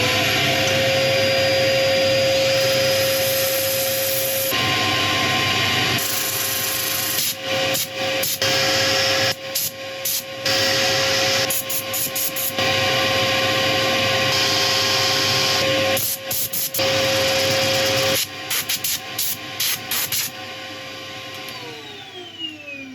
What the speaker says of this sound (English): Right, I'll set up for sanding